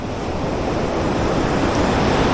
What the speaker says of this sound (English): it's quite a wild sea today